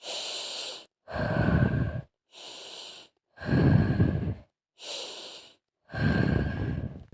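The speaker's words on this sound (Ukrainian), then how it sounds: "Носиком дихаєм, ротиком видихаєм." Slow breathing exercise: three deep breaths in through the nose, each followed by a longer, heavier breath out through the mouth, with short silent pauses between them.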